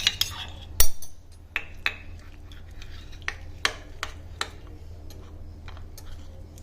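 A spoon clinks and scrapes against a bowl while a big thyme leaf remedy with oil is mixed, a series of light irregular taps and ticks up close over a faint low background hum.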